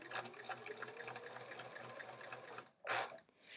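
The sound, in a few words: sewing machine sewing quilt top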